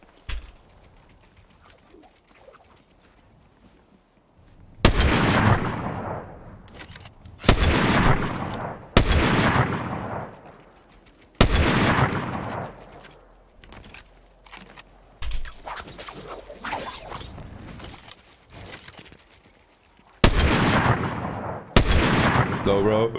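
Sniper rifle shots in a shooter video game, about eight sharp loud cracks spaced a second or more apart, each with a short echoing tail, and quiet ambience with faint bird calls in between.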